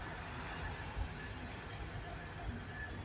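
An eastbound intermodal freight train passes in Ohio, a continuous low rumble of rolling cars with a faint high wheel squeal running over it, steady and fairly close.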